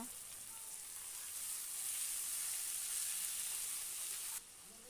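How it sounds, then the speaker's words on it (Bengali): Two medium potatoes frying in a pan for jhinga alu posto, a steady, faint, hissing sizzle that carries on evenly throughout with no talk. "আলুগুলো একটু ভেজে নেব"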